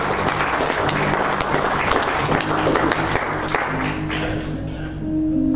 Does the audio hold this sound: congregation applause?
yes